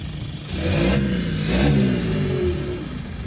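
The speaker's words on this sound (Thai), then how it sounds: "ฟังเสียงท่อ" A 2018 Isuzu X-Series 1.9 pickup revs its engine with a loud exhaust note. Two strong surges of throttle rise and fall over a steady mid-pitched idle, close by and with no voices.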